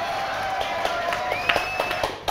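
Audience applause in a studio, a steady patter of clapping at moderate level with a few sharper claps near the end and a thin tone running beneath it.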